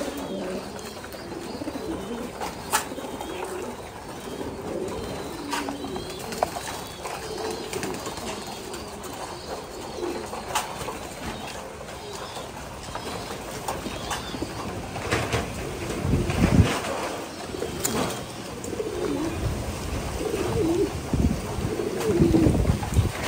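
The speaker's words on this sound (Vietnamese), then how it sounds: "chim bố mẹ đang bón cho con ăn đây" Farm-raised pigeons keep up a low, continuous cooing while parents feed chicks crop milk, with scattered flaps and rustles and a steady hum underneath.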